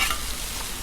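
Pork chops sizzle on a Blackstone griddle in a brief, close, constant frying hiss.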